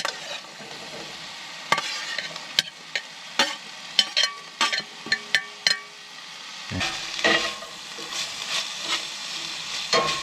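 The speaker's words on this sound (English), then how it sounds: "Gotta saute those onions a little bit" Onions sautéing in a pan at a winter truck campsite, a steady sizzle broken by sharp scrapes and clacks of a utensil stirring, with a brighter burst of frying near the end; no talking.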